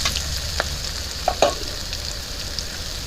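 Chopped potatoes, carrots and green chili fry together in a pan, giving a steady close sizzle with a few sharp stirring clicks and scrapes scattered through.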